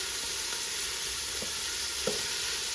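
Three finely chopped red peppers sizzle with onions in a hot pan, a steady close hiss with a couple of soft knocks from stirring, and no one speaking.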